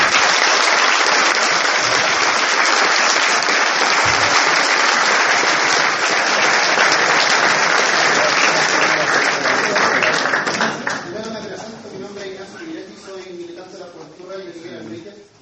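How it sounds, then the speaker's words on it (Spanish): Auditorium audience applauding the university's general secretary, a dense, loud sustained clapping that fills the hall for about eleven seconds before thinning out into scattered claps under fading murmur. "Un aplauso para el secretario."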